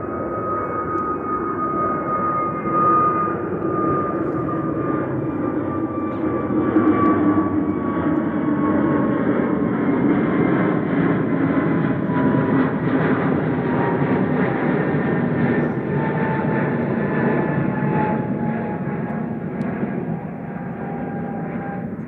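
A Ryanair airliner landing at Manchester Airport roars steadily through a long sustained jet engine drone with a whining tone, loud and continuous, no talking.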